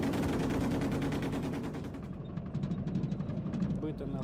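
A Gepard anti-aircraft gun built in 1978 fires rapid bursts, dense fast repeating reports that then thin into distinct, evenly spaced shots, loud and fairly close, with no voices over them.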